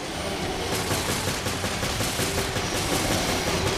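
Sustained, dense gunfire from Resident Evil Revelations in Abyss Raid Mode, a steady loud barrage of overlapping shots with no break across the whole stretch and no voices.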